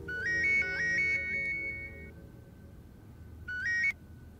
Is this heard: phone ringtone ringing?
yes